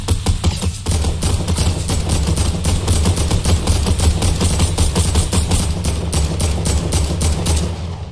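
Automatic gunfire from the video game Fortnite cracks in rapid, evenly spaced bursts, loud and sustained over a low steady rumble for about eight seconds before it cuts off.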